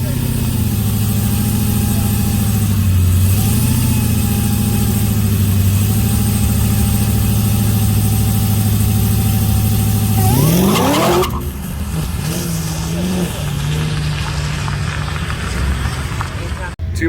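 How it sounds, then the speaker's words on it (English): A drag race car holds a steady, loud droning engine rev at the line for a launch, then surges away with a rising roar and tire noise before settling to a lower rumble. "We're gonna try to go for like a 1500 RPM launch this time"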